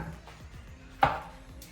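A knife cuts through a red snapper on a board with a few soft, rhythmic scraping strokes, followed by one sharper, louder chop, close and alone without speech.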